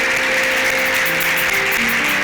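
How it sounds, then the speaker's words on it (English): Church congregation applauding during a Sunday service, a steady dense wash of clapping that holds evenly from start to finish without pause, with a faint sustained tone underneath. "Let's applaud this day."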